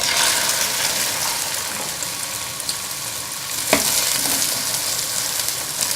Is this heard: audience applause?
no